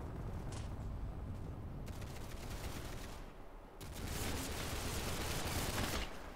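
Gunfire in a shooter video game, quiet sustained bursts of rapid shots with a short pause midway before the firing resumes more densely.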